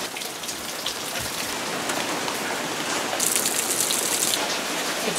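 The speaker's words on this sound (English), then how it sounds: "It's cold, it's raining." Steady, dense rainfall hisses close by without a break, a loud, even wash of drops on surfaces with no voices over it.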